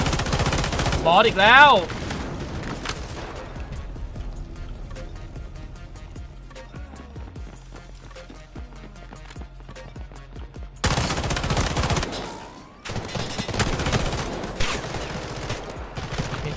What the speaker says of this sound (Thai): ข้างหลังเรามียิงกันอ่ะ